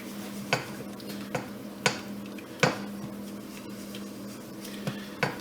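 A spoon stirs a thickening béchamel sauce in a pot with a roux base, its regular metallic scrapes and taps against the sides sounding about once a second over a low steady hum, and no voices.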